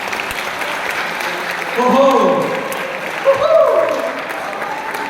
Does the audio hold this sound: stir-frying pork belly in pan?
no